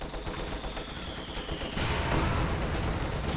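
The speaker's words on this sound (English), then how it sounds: "Now the mortars are really beginning to fly through the air." Bursts of gunfire and mortar blasts from the Company of Heroes 2 video game, a quiet crackle of shots that swells into a denser, heavier barrage of explosions partway through.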